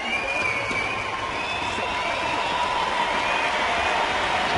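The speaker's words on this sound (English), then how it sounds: "The cries you can hear from the crowd" Stadium crowd at a rugby sevens match between Fiji and Australia in South Africa, December 2013, giving a steady distant roar of cheering and cries, with no single voice standing out.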